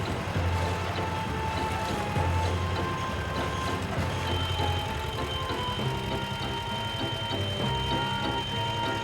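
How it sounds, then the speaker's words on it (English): A concrete depth measuring stick on a ground-floor concrete job gives off a repeated, fairly quiet electronic beep, pulsing over a low rumble of machinery and site noise. "That beeping sound you hear is from the measuring stick."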